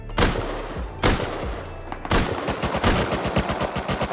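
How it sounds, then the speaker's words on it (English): Python revolver gunfire in the survival game Rust: a few loud, spaced single shots ring out first, then a dense burst of rapid, evenly spaced gunfire from several weapons, close and with no talk over it. "Headshot one with the Python."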